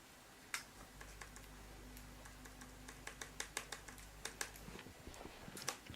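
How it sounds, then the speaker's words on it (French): A computer keyboard in a dim room clicks with a quiet, irregular run of separate key presses over a low hum that cuts out near the end. "J'active juste le rétroéclairage sur mon clavier."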